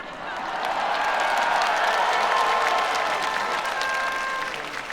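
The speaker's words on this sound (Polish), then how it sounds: "Wielkie brawa dla Włodzimierza Czarzastego." A large crowd applauding at an outdoor political march in Poland, a steady, dense wash of clapping with faint cheers that swells and holds for several seconds.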